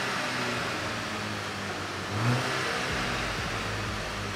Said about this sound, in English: So that is bone stock Mark 6 GTI exhaust.